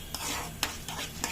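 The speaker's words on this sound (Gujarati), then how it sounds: "આપણે 2 થી 3 સેકન્ડ જેટલું સાતળીશું। દાળનો કલર આપણો થોડો ચેન્જ થાય ત્યાં સુધી।" Dal sautéing in a pan for idli chutney, giving a steady soft sizzle, with a few sharp spoon or spatula scrapes against the pan at irregular intervals.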